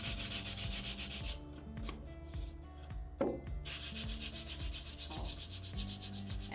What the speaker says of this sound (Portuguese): essa lixadinha é essencial para não ficar aquela ponta de papel colado